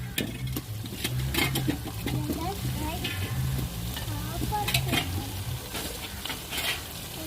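Chopped potatoes frying in a pan with continuous sizzling and crackle, broken by repeated scraping, clattering stirs of a spoon against the pan at close range, with no voices.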